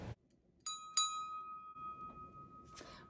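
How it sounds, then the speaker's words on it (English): A small brass bell rings twice in quick succession, clear and bright with a long shimmering sustain that fades slowly, followed by a faint clink near the end in a quiet kitchen. "Brass bell,"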